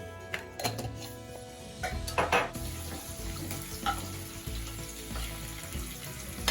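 Shallots, garlic, curry leaves and fenugreek seeds fry in coconut oil with a steady close sizzle and occasional sharp clatters of stirring. No one speaks.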